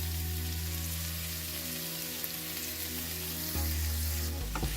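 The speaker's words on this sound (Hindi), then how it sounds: "ये सबों को हम मिला देंगे और फ्राई करेंगे इनके साथ।" Green, red and orange bell peppers with a little orange chilli frying in oil, a steady close hiss like light rain, moderately loud and even, with a brief clatter near the end.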